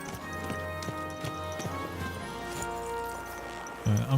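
Horse hooves clip-clop in a steady, regular rhythm at moderate distance, with faint background murmur and a louder thump near the end.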